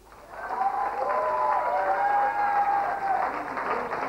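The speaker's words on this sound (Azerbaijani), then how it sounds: "gürültülü alqış!" Loud applause in a restaurant for a singer at her birthday celebration, a sustained wash of clapping from a crowd with some tonal music or voices threaded through, steady throughout.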